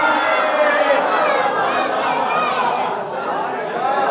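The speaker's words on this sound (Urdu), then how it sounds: "جنہیں بولنے کی تمیز نہیں وہ بچے نعرے لگا رہے ہیں" Children chant slogans together at a Muharram majlis, a dense, loud crowd of young voices sustained throughout without pause.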